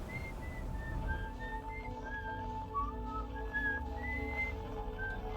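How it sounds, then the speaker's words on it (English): A wavering whistled tune drifts through the Outer Wilds space game, heard as a steady melodic line over a constant low hum, with no talking. "The whistling is coming from the Attlerock."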